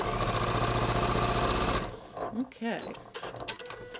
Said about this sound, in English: we're just going to sew right past it to finish the inseam